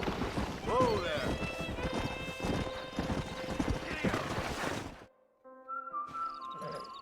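A stallion in a Western video game clops along with steady hooves while neighing and whinnying rise above the trot, fairly close and under talk, before the hoofbeats cut off and a whistle-like tone follows.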